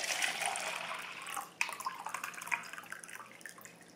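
Warm water poured into a plastic cup for a paw cast molding container, close splashing and trickling that breaks off, then restarts with drips and gurgles, moderately loud and unaccompanied by speech.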